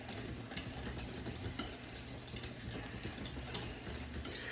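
Grated cheese is stirred into a melted butter sauce in a pan, the spoon scraping and ticking softly in a busy, continuous rhythm with a low sizzle beneath.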